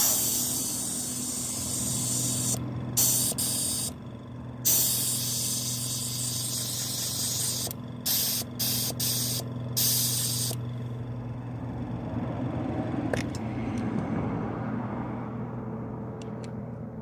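An airbrush sprays paint onto the rusty side step of a campervan, giving a steady close hiss that runs throughout, broken by several brief pauses between bursts.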